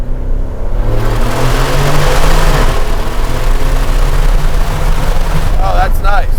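A loud Aston Martin Vantage F1 Edition engine revs hard and accelerates in second gear, its deep guttural roar echoing in a tunnel.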